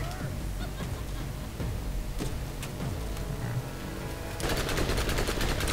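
Gunfire in the Borderlands video game: a steady stream of rapid shots runs throughout, growing louder and denser near the end, with voices in the background.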